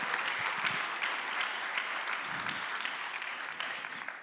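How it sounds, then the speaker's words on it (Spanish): A room full of people at a health-system forum panel claps continuously, a full even wash of applause holding steady before easing slightly at the end. "Nuevamente aplausos"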